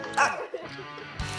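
A puppy barks and yips in short bursts near the start, with a whimpering yelp later on, heard close by over an outdoor background while a person talks.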